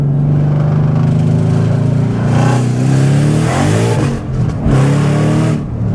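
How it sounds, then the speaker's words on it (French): Ford Mustang Shelby GT500 supercharged V8, 760 hp, accelerating hard with a loud, continuous engine roar, revs rising and pitch climbing through brief gear-change dips. "C'est surtout pour le bruit du V8"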